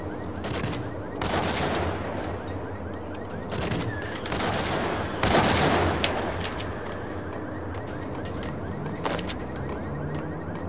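Shotgun blasts from the Max Payne video game, several loud booming bursts spaced irregularly over the stretch with echoing tails, and a voice briefly audible among them.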